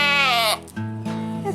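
A female Boer goat on a farm bleats loudly and close by, one long wavering cry followed by a shorter, lower bleat, with no talking over it.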